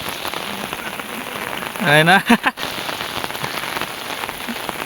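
Heavy rain falls steadily across a village in Konkan, a constant close wash of drops on surfaces, with someone speaking briefly partway through.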